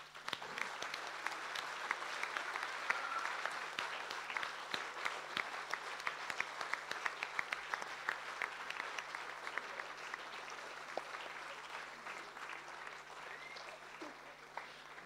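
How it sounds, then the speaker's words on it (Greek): Sustained applause from a crowd at a school celebration for the 28 October national holiday, steady dense clapping with sharper individual claps throughout, filling the full stretch. "παρακαλώ όλους σας για ένα θερμό χειροκρότημα"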